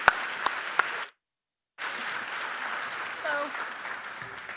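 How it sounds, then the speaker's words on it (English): Symposium audience applauds a panel moderator, a steady wash of clapping with a few sharp nearby claps, cut by a brief silent gap before the applause resumes and continues under a faint voice. "Please give Dana a round of applause"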